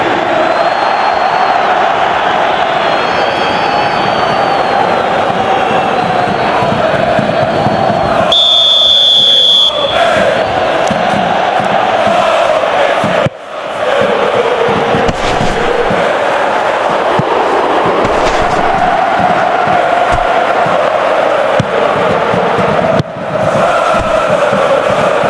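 Stadium crowd in the football video game PES 2021 keeps up a steady, loud roar throughout, with brief dips and a high tone near the middle.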